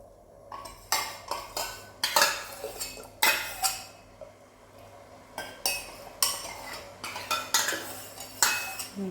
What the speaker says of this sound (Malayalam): പക്ഷെ നന്നായിട്ട് ഇളക്കി കൊടുക്കാം.